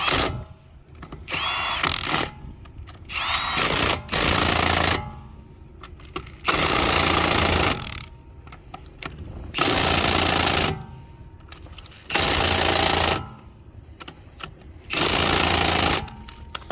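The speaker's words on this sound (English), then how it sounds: "So we're going to use this Milwaukee on setting number 2 so it doesn't over torque it." A Milwaukee impact wrench on a low setting tightens the lug nuts on a Toyota Supra during a flat tire change, firing in about five loud, close, rattling bursts separated by short pauses.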